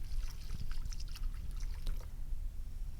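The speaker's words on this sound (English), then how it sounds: "you're going to add in the beef broth" Beef broth poured from a carton into a pan of browned flour, a soft continuous trickling and splashing at close range, fairly quiet.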